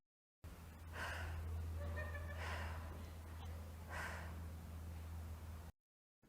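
A person wearing anti-fog glasses breathes heavily in a few slow, close, breathy gasps and exhales over a steady low hum.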